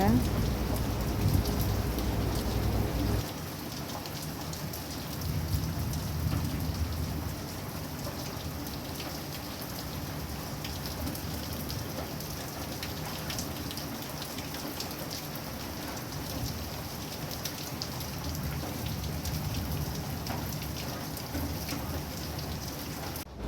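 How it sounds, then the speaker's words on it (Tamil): Rain falls steadily outdoors in a village setting, a continuous soft hiss with a louder thump of noise at the start, then settling into an even, moderate patter with no talk. "காலையிலே செம மழை வெளுத்து வாங்குச்சு இப்போ வந்து லைட்டாக குறைஞ்சிருக்க"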